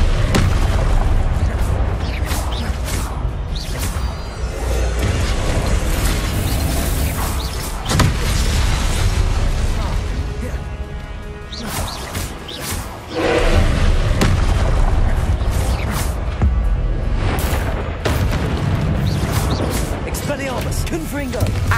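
Repeated loud blasting-spell explosions in a Hogwarts video game, heavy booming impacts with crackling bursts in close succession, a voice calling out spells over the din.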